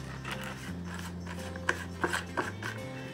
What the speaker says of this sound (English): you always want to condition them by just running a little sandpaper over them